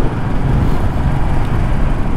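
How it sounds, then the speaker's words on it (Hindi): Road vehicle noise from a van coming head-on at a motorcycle travelling near 90, a dense rushing roar of wind and traffic swelling steadily with no voices. "वैन सामने से आ रही है।"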